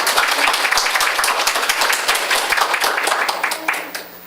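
Audience applause fills a Chungnam National University lecture hall, dense and continuous clapping at close range that fades slightly toward the end.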